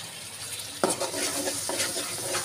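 Tomatoes dropped into a pan of frying garlic, ginger and onion, a soft sizzle with a couple of sudden scraping stirs against the pan, close but fairly quiet with no voices.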